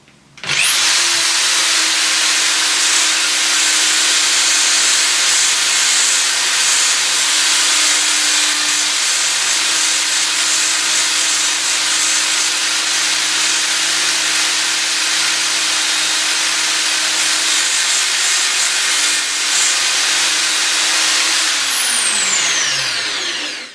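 A drill bit sharpener gives a steady, high-pitched grinding whine continuously for about twenty seconds, loud and close, then winds down as the motor stops.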